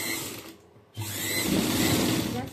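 A sewing machine stitches a prince-cut blouse, its steady mechanical whir and rapid needle clatter starting after a brief quiet pause and running on close and fairly loud.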